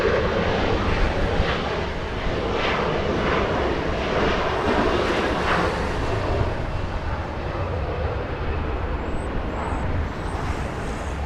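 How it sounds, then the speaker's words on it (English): A LOT Polish Airlines Boeing 787 Dreamliner from Warsaw arriving on approach at LAX, its engines a steady, loud, broadband roar that holds throughout with slight surges, with no talk over it. "Let's say hello and welcome to Los Angeles the Polish Dreamliner."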